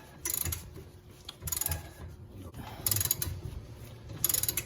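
A torque wrench ratchets in four distinct bursts while tightening a bolt to 30 foot-pounds through a mild steel plate on a 1997 Rockwood Freedom camper, each a close, rapid metallic clicking separated by short pauses.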